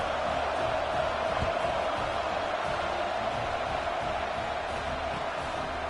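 Broad steady crowd roar fills a football stadium during a Michigan vs Tennessee game, a continuous dense wash of many voices with no distinct cheer peaks.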